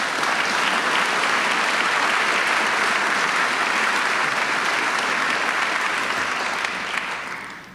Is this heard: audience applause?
yes